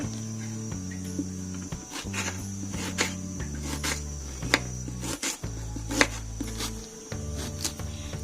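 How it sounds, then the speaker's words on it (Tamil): A knife chops onions finely on a board, steady rapid taps repeating in short runs, close and clear with no talk. "இப்போ வெங்காயம் கட் பண்ணிடலாம்."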